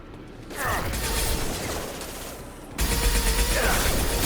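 Sci-fi weapons fire in the Mass Effect 2 shooter as a steady mechanical rattling barrage, rising in intensity toward the end with dense, close bursts and no talking.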